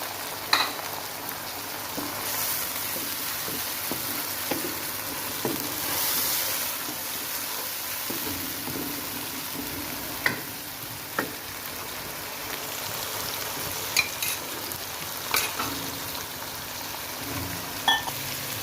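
Garlic ginger paste and tomatoes fry into a masala in a pot, a steady close sizzle with scattered scrapes and clicks of stirring, no voices.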